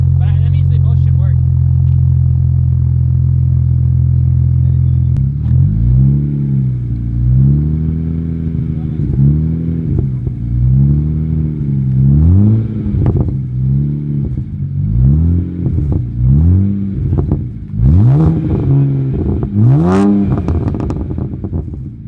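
A BMW E92 335i engine idles steadily, then revs repeatedly in rising and falling bursts, with a rough, burbling exhaust crackling between the revs, close and loud.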